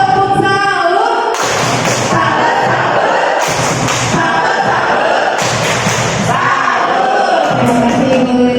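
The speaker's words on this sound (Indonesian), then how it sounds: "salut bagus ya. Tepuk salut." A group performing tepuk salut, a rhythmic clap, in bursts of dense, loud clapping alternating with brief pauses and shouted voices, close and energetic.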